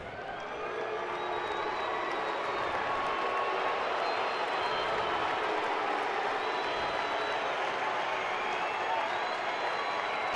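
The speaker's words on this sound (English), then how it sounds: "A lot of people on their feet applauding." Baseball stadium crowd at an Atlanta at Arizona game, many fans on their feet applauding: a dense, continuous wash of clapping and crowd murmur, steady and fairly distant, with faint talk under it.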